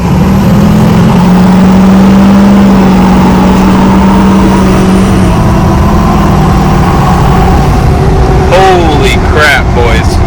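A tuned Duramax LBZ diesel truck on a fifth-stage tune pulls loud and close, its engine note climbing through a long rising tone, then easing back, with a faint voice late in the clip.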